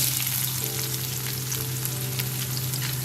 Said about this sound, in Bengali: এখন পেঁয়াজটাকে আমরা একটু গোল্ডেন ব্রাউন করে ভেজে নেব